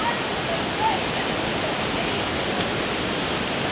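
Wairere Falls in the Kaimai Range, a small waterfall running during a storm, gives a constant broadband rushing roar, steady and unbroken throughout, fairly close and with no voices over it.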